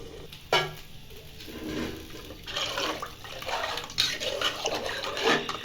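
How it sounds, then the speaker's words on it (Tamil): Water poured into a cooking pot of rice for mushroom biryani, a steady splashing, filling pour building over several seconds, close and moderately loud with no talk. "ஒரு டம்ளர் அரிசிக்கு ரெண்டு டம்ளர் தண்ணி ஊற்றிக்கலாம்"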